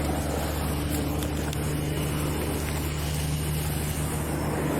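Continuous loud road noise with a low engine drone and rushing tire sound, steady throughout without speech.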